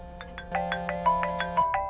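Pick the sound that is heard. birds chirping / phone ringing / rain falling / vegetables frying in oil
phone ringing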